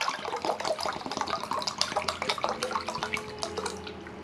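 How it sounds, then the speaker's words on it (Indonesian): Room-temperature water, 600 ml, pours into an Optimus pot kettle for a camping stove boil test, a close, continuous splashing and gurgling stream with no voices. "memasukin 600 ml air ya ke Optimus pot kettle ini"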